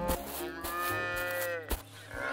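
Cartoon cows moo in a long, drawn-out call that rises and holds, with a second shorter moo near the end, loud and close against a faint background.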